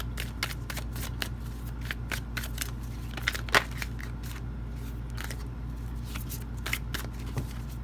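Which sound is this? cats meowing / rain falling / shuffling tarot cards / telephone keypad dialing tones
shuffling tarot cards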